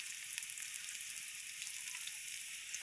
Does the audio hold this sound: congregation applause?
no